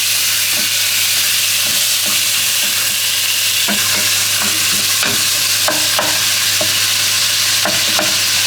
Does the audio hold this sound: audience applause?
no